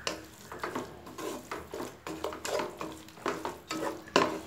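Yogurt is stirred into biryani masala in a hot pan, with rhythmic scraping strokes of a spoon against the pan over a soft sizzle, close and moderately quiet.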